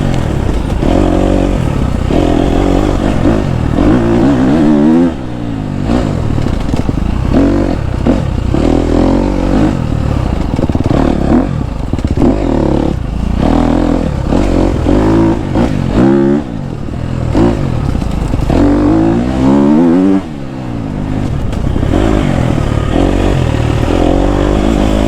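A KTM 250 SXF dirt bike is ridden through a summer forest, its engine loud and close throughout, revving up and down with rattles and scrapes from the trail.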